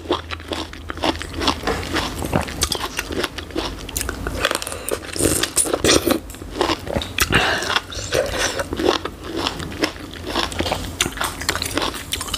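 Teeth bite into a fresh plum and chew it, wet crunching and squelching bursts repeating close to the microphone for several seconds with no talk.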